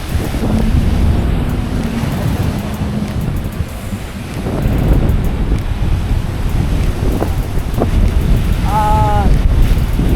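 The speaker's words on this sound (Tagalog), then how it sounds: "sobrang lakas ng hangin" Strong wind buffets the microphone at a seaside beach resort, a loud continuous roar with surf washing underneath and a few brief knocks near the end.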